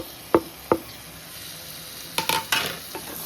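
A tomato going into a pan of cooking chicken curry, with two sharp taps early on, then a soft sizzle and a few scraping stirs and clatters near the end, close and quiet with no talking.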